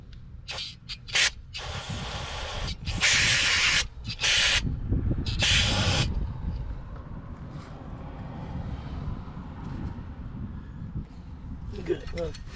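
An aerosol spray can hisses onto the rear brakes of a 2006 Toyota Sienna in several short bursts and a few longer blasts, close and loud, followed by quieter rustling work noise.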